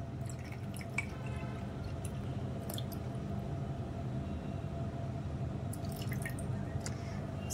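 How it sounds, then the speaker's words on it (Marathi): Cold water trickles and drips into a pineapple ginger shot mixture, a quiet, close series of small splashes and drips over a faint steady background hum. "आणि सर्वात शेवटी थंड पाणी।"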